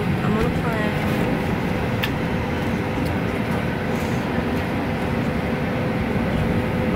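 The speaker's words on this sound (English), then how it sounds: "Okay, so I'm on a plane." Steady cabin noise fills a plane in flight, an even, unbroken engine and air roar heard close throughout, with faint chatter in the background.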